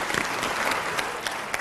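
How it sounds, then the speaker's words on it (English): An audience claps sheepishly in a played-back recording, a short burst of moderate, steady applause with a few sharper claps standing out. "But notice the sheepish clapping."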